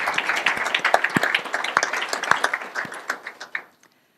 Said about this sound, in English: So a round of applause again for our sponsors.